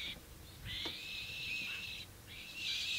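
African black-shouldered kites mobbing an eagle give long, high, shrill screaming calls, two drawn-out cries separated by a short pause, heard at moderate distance.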